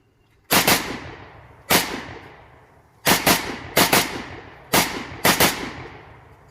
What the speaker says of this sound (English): so I'm going to do a rapid fire string.